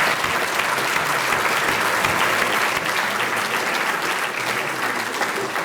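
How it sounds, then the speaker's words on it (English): Applause from the audience at a Scouts distinguished citizen award dinner, a full, even roar of clapping from many hands that holds steady and close for several seconds. "One final round of applause."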